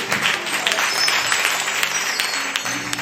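A church congregation claps and cheers in praise during a worship service, a dense, steady wash of applause that fills the room for the whole stretch.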